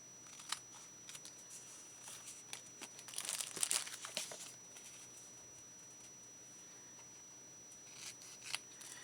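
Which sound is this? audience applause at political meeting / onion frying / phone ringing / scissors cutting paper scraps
scissors cutting paper scraps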